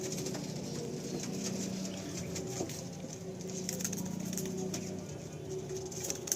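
Pigeons coo low and steadily amid light pattering and shuffling sounds, a soft continuous murmur of birds close by.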